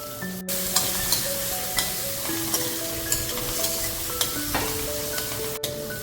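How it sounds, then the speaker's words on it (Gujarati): Spiced masala with garam masala and chole masala powder sautéing in a pan, an even close sizzle with light periodic ticks, and thin tonal hums drifting in the background. "હવે આપણો મસાલો એકદમ સાતળાઈ ગયો છે"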